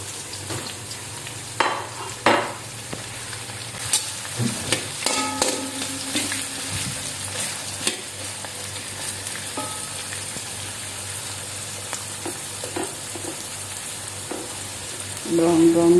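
Chopped onions frying and browning in a hot pan for lumpiang gulay, a loud continuous sizzle with occasional stirring scrapes and clanks, close up, growing sharper near the end.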